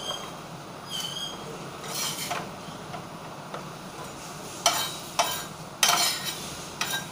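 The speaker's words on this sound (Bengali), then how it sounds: "এখন আমি করছি ডিম পাউরুটি, পাউরুটির টোস্ট।" Egg toast cooking in a pan, with a low background sizzle broken by several sharp clinks and scrapes of a utensil against the pan, close and intermittent.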